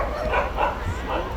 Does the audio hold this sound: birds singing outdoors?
no